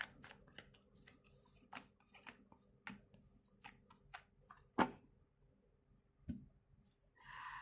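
Tarot cards are shuffled and drawn close by, a run of quick riffling flicks and soft slaps, with a few sharper card snaps in an otherwise quiet room.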